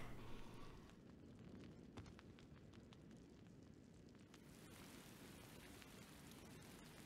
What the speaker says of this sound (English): Oh no, here's rain, graveyard rain.